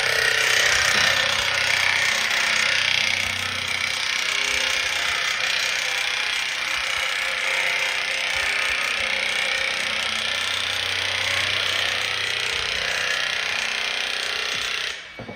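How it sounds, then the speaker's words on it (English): Steady, loud power-tool chatter of a nibbler cutting through standing seam metal roofing, a continuous harsh rasping drone that holds for the whole span with only a brief dip near the end. "tool that I'm using, it's a nibbler."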